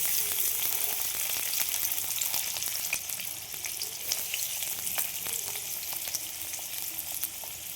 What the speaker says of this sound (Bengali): সব সবজিগুলো আমি ভেজে নেব।